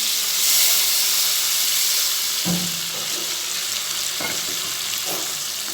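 Dried fish fries in hot oil that sizzles and hisses steadily in a pan, with a few soft stirring clatters and scrapes breaking through the frying.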